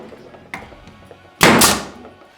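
A Stinger cap nailer, air-powered and hose-fed, fires a roofing nail: a faint click, then one loud, sharp burst with a hissing tail that fades over about half a second.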